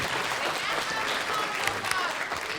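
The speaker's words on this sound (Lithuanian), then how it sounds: "Plojimai, ačiū jums labai." Applause from an audience at a small informal gathering, a steady dense patter of clapping for a couple of seconds with faint voices mixed in underneath.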